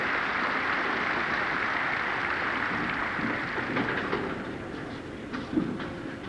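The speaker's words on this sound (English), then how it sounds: "Nice hand from this crowd here." A crowd at a 1989 ABC Masters bowling tournament applauds, a steady, distant wash of clapping that holds level, then thins slightly toward the end.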